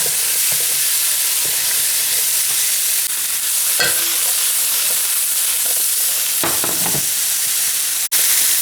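Mushrooms fry in oil with a loud, continuous sizzle, punctuated by scraping stirs and a sharp clack near the end.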